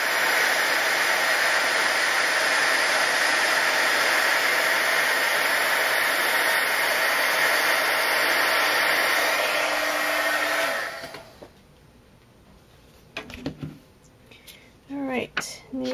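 A heat tool melting embossing powder on paper blows a loud, steady hairdryer-like whoosh for about ten seconds, then cuts off, leaving quiet handling noises and a few words.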